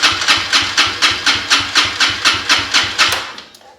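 With the throttle held wide open, an engine spins over on its starter during a compression test, giving about a dozen even, rhythmic chugging pulses, loud and close, that slow and fade at the end.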